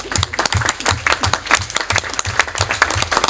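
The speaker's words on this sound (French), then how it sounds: "applaudissez les femmes et les jeunes qui sont là" Applause from an audience of men at an ACP-FAO-OIF cooperation symposium, honoring the women and youth present; dense, steady clapping fills the whole stretch at close range.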